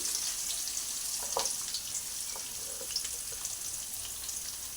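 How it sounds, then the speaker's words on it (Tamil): Chopped onions hitting hot oil with fennel seeds in a pan for tomato biryani give a steady, close, crackling sizzle throughout, with a few brief louder pops and no talking. "கட் பண்ணி வச்சுருக்கிற வெங்காயத்தை சேர்த்துக்கலாம்"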